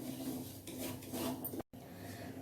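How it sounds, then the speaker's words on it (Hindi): Semolina (suji) stirred while roasting in a pan for Diwali suji gujiya, a steady dry scraping and rasping rub that runs continuously, close and fairly quiet, broken by a brief dropout near the end. "सूजी को भी हल्का ब्राउन होने तक भून लेंगे।"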